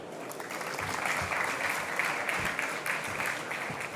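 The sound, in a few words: audience applause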